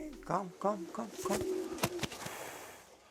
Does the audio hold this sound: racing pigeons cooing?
yes